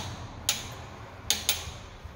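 Torque wrench clicking on timing chain bolts of a Toyota Celica 22RE engine, three sharp metallic clicks, one alone and then two in quick succession, close and distinct against a quiet room.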